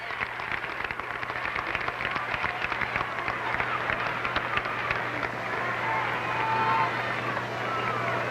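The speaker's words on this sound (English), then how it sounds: "She gets a well-deserved round of applause." An arena crowd at a 1970 Iowa girls' state high school basketball championship, Montezuma versus Manilla, applauds with dense sustained clapping mixed with crowd noise, a low steady hum beneath.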